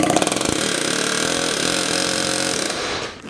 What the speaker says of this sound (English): But you can do it with an air hammer.